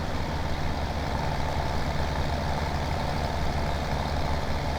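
Harvester engine running at full throttle in Farming Simulator 2017, a steady, loud, low droning roar that holds constant throughout.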